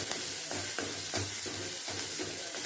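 Green chilli paste with asafoetida sautéing in hot oil in a pan, a continuous close sizzle with regular rhythmic stirring scrapes about every third of a second.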